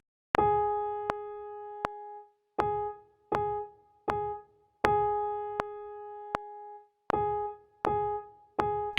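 Single piano notes on one pitch tap out a repeating rhythm from a Brahms waltz, a long dotted note followed by three quicker ones, soft and isolated.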